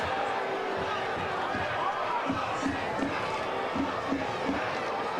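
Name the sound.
soccer stadium crowd noise at the final whistle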